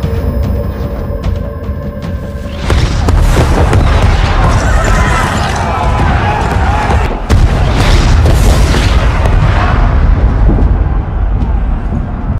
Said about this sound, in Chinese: 轰炸机投下炸弹